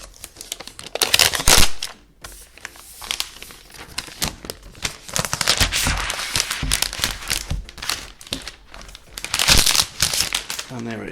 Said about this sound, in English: Let's get the paper off.